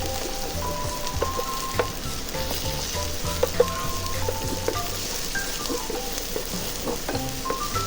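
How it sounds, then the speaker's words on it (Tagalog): Garlic, ginger and onion sauté in a hot pan for bopis, a Filipino pork lung dish, with a steady, dense sizzle and frying crackle throughout and occasional stirring clinks. "Gisahin lang natin siyang maigi hanggang sa lumabas yung kanyang aroma."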